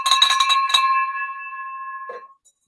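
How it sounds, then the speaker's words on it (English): A small hand bell is rung rapidly several times, its bright metallic tone sustaining and slowly ringing out, close and clear. "Ring that bell, baby."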